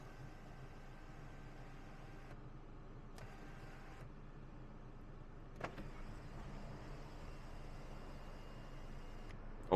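Motorized sunroof on a 2024 Alfa Romeo Giulia Competizione opening inside the quiet cabin, a soft electric whir that starts, pauses and resumes, with a faint click near the middle and a bump at the end.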